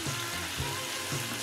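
Food seared on a hob gives a steady, close frying sizzle with a low hum underneath, a couple of brief stirring bumps, and no voices.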